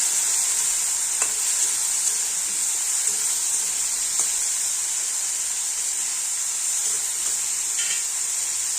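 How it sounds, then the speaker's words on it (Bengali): Spice paste with a little water frying in a pan for a potato and soybean curry, a steady bright hiss and sizzle with a few faint stir clicks, close and unbroken, no talking. "অল্প পরিমাণে দিয়ে দিচ্ছি জল, না হলে মশলাটা পুড়ে যাওয়ার চান্স থাকবে। ভালো করে কষিয়ে নেব।"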